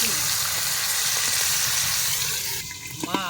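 Boal fish pieces frying in hot oil produce a loud, dense, close sizzle that holds steady and eases slightly near the end, with a brief voice at the close.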